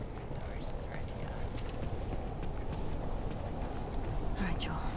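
Horse hooves clip-clop in The Last of Us video game, a steady close rhythm of thuds running under constant game ambience and a voice talking throughout.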